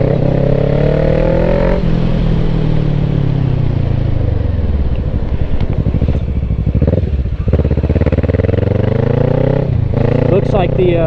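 A motorcycle on a gravel road on new tires, its engine droning loud and close throughout, pitch sweeping up and down with throttle changes, with faint clatter from the road beneath.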